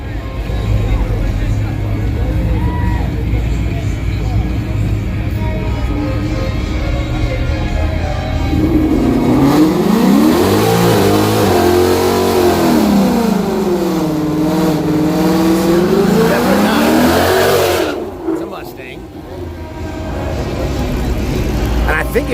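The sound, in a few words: Dodge Hellcat car revving and accelerating at drag strip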